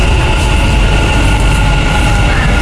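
A loud, steady rumble and roar from a Dubai Metro train arriving at a station, with a constant hum and faint rail noise, heard close and continuous.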